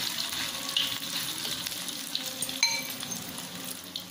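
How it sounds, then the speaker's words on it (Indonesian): Tofu mixed with egg sizzles in hot oil in a pan, a steady close crackling hiss with faint scattered pops and occasional stirring sounds. "Kita goreng hingga kering dan matang."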